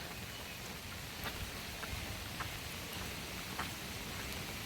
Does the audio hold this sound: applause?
no